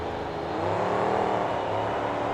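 Monster truck engine revving hard during a race at a KORR Monsters event in Atlanta, a throaty, sustained mechanical drone with shifting harmonic tones, heard continuously without talk.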